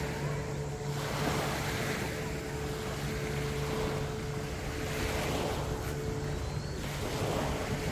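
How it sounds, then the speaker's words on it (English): Speedboats run on the sea off Koh Larn near Pattaya, Thailand, a steady motor drone mixed with wave wash and wind buffeting, continuous and moderately near. "here you see the speedboats that are on the way to Tawaen Beach"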